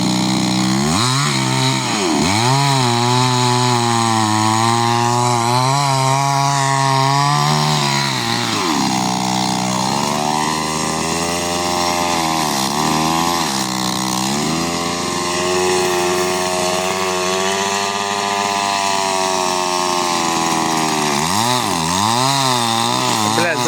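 A loud petrol chainsaw roars continuously nearby, its engine pitch dipping and rising as it bites into wood, with the bar getting pinched in the cut.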